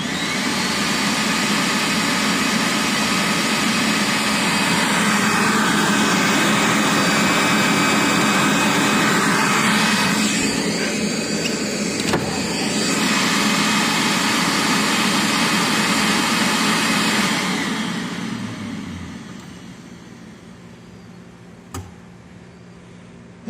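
Vacuum motor of a Viper AS710R rider floor scrubber, newly replaced, roars loudly and steadily for about seventeen seconds, then winds down and fades to near silence.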